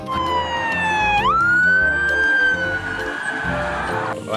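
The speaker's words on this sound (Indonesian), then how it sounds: "Mobil polisi." A toy police car plays an electronic siren, its wailing tone rising, then holding at a high pitch over a background of rattling, busy noise, loud and close.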